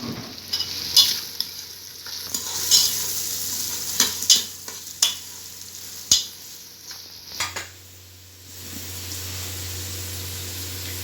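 Onions fry in a pan for Lahori chana, a soft sizzle broken by repeated sharp spatula scrapes and clinks against the pan, then settling into a steadier low frying hiss.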